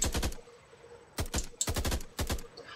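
Short bursts of rapid gunfire in the video game Mr. Jones: Retribution, loud and close, with several separate bursts broken by brief silences.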